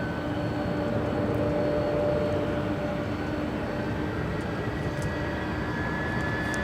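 An airliner on final approach to runway 24 right at LAX gives a steady, droning engine roar with a faint whine, continuous and moderately distant, with no talk.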